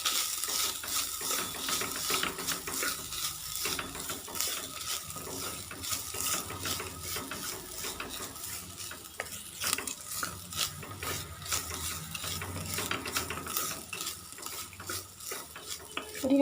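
Grated coconut being stirred in a pan, a spoon scraping and clinking against the metal in a steady, busy rhythm with a faint frying sizzle underneath, close up and with no talking.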